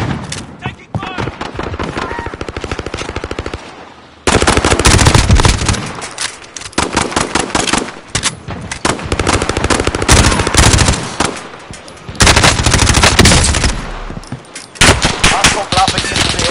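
Video game gunfire as hostiles attack, with loud bursts of automatic weapons fire in long dense volleys broken by short pauses, some speech mixed in.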